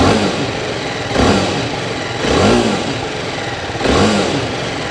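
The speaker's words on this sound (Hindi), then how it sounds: "अब मैं आप लोगों को एग्जॉस्ट नोट सुना देता हूँ।" A BMW 310 R motorcycle idles and is revved three times, each rev rising and falling in a rhythmic sweep over a steady close exhaust burble, with no talking.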